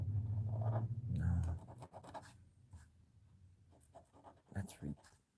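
A pen loaded with acidic ink scratches across drawing paper in short, uneven strokes, mostly faint and close, with someone talking over the start.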